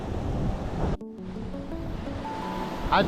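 Surf washes onto a beach near Myrtle Beach, a broad close rush of breaking waves with wind buffeting the microphone, then a brief lull and another wave surging in near the end.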